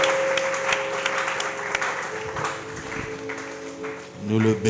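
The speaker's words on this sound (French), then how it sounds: "Applaudissons d'abord pour notre Seigneur." A church congregation claps steadily throughout, a dense wash of many hands that is fairly loud and close, while a voice speaks over it near the end.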